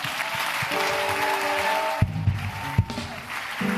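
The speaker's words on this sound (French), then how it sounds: "On acclame pour le Seigneur." A church congregation claps steadily in praise of the Lord, a dense, continuous applause filling the room, thinning briefly near the end.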